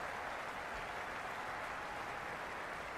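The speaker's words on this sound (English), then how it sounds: "Will you listen to that crowd? They are loving this." Stadium crowd roaring in the cricket video game Cricket 26, Australia 2007 versus England 2007, a dense, steady wash of cheering and applause that never lets up.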